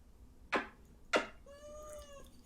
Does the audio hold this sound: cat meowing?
yes